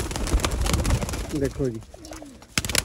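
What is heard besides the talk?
pigeons cooing, Sialkoti pigeons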